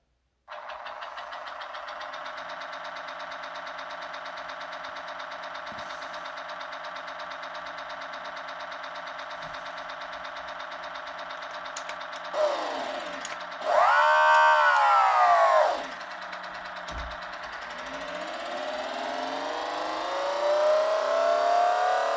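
Synthesized racing car engines from an Amiga 500 racing video game drone steadily at high pitch, with a surging rise partway through and climbing revs near the end, loud and continuous with no talk.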